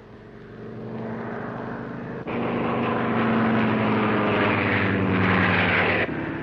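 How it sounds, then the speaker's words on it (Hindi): A propeller airplane drones overhead in a 1951 Hindi film, a loud steady engine roar that swells after a couple of seconds and holds with a throbbing low hum, with no talk over it. "हवाई जहाज चक्कर क्यों काट रहा है?"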